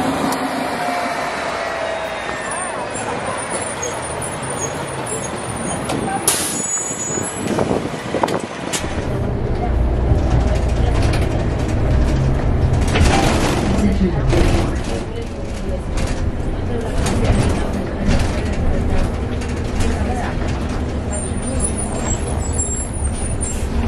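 A Q25 Limited city bus in New York pulls in close by with a loud hiss of air brakes and the clunk of doors, engine rumble and street noise continuing under occasional voices.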